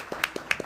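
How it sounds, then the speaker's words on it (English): A handful of sharp, separate claps at a port authority meeting, four or five distinct hits in quick succession, close but not very loud. "You and Cal started with letting people clap"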